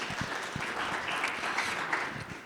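Audience applause at a business talk on DBE contracting, a steady wash of clapping from a crowd lasting the whole moment, fairly loud and even.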